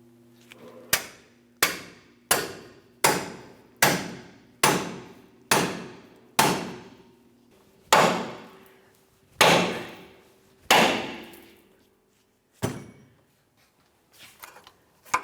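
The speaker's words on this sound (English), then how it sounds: "Let's continue on with a pickle fork and a hammer." A series of sharp metallic hammer strikes on a pickle fork separating a lower ball joint on a 2002-2005 Ford Explorer, about a dozen evenly spaced blows, then a few slower final hits, loud and close.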